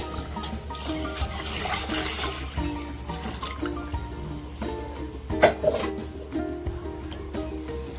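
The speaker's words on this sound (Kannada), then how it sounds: "ಈಗ ಇದಕ್ಕೆ 4 ಲೋಟ ನೀರನ್ನ ಹಾಕ್ತಾ ಇದ್ದೀನಿ." Four cups of water are poured onto rice in a pot for home-style chicken biryani, giving a splashing, gurgling stream with uneven bursts, close by and moderately loud.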